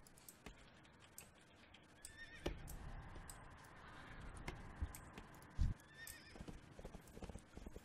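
A horse in World of Warcraft whinnies amid game sound, with hoof clip-clops and scattered effects, the neigh rising around the middle before fading beneath thuds and a low rumble.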